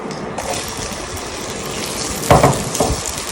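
Diced apple tumbling into a hot pan for an apple pear pie filling, a steady sizzle and stir that swells into a brief louder clatter and hiss partway through, with no one talking.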